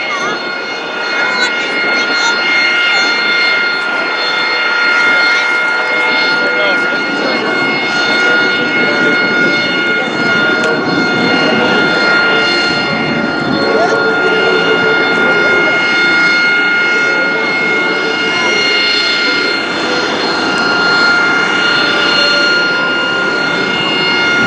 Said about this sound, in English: The Marines, they always bring the loudest airplane to any air show with the Harrier.